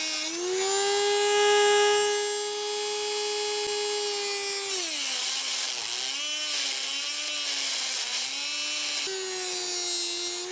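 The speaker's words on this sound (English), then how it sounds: "we're going to nip this with the Dremel's a bit better because it's a bit slower, well not slower, a bit smaller" A Dremel rotary tool cuts into a steering bearing, a steady high-pitched whine with strong harmonics that holds for several seconds, then dips and wavers in pitch as the cut bites harder. The tool sounds close and loud, with no voice.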